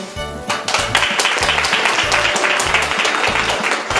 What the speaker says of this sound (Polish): Słabe te brawa, które były na końcu